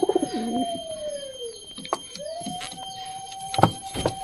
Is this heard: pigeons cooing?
yes